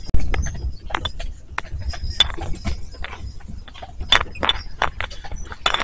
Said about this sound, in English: if you're wondering what that clip clop, it's the horse